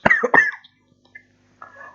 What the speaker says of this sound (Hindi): सॉरी खांसी के लिए